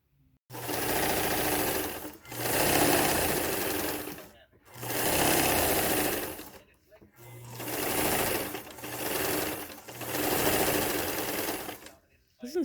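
A sewing machine stitches a wool overskirt for a Victorian bustle dress for an American Girl doll, loud and near, in four long runs of steady whirring separated by short pauses.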